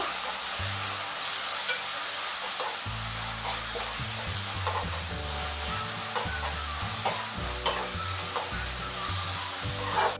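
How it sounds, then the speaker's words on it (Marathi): Onions sizzle in hot oil in a pan while being stirred, a continuous close frying hiss broken by repeated scraping and clinking of a spoon against the pan. "कांदा आहे ना ते परतून घ्यायचं आहे कलर चेंज पर्यंत"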